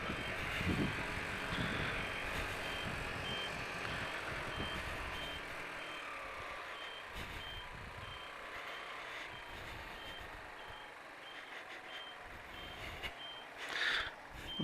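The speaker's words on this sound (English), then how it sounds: "You should be able to pick up the beeper on my indicators." Indicator beeper on a scooter riding along a road near Denton, repeating evenly and fairly faint beneath steady traffic and engine noise, with a brief louder chirp near the end.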